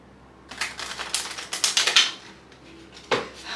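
Tarot cards are shuffled by hand in a quick run of crisp clicking riffles, close and fairly quiet, then a pause and one more sharp snap.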